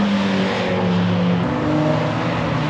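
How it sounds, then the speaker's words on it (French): A car passes at the Jap'N'Car 2025 car festival, its loud, steady engine drone close by, with the pitch dropping sharply midway as it goes past. "Et il y a une voiture qui passe à ce moment-là"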